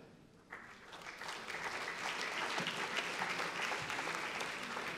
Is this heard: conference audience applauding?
yes